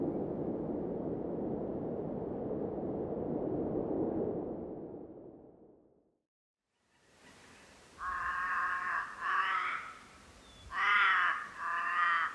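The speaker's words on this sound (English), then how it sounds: "Crows love it." Crows caw at Cradle Mountain, Tasmania. A steady rushing noise fades into a brief silence, then several harsh, loud caws come in short clusters close by, with no talking.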